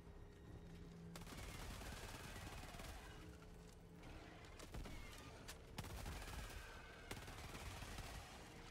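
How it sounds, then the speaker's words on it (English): Pistol gunfire in the video game Helldivers 2, a dense run of shots and bursts sounding loud and close over busy battle noise, with no voices clear. "It's a nice pistol."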